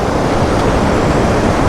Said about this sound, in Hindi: बट इस रिवर का व्यू, इसका जो फ्लो है पानी का, बहुत ही ज़बरदस्त, बहुत ही डेंजरस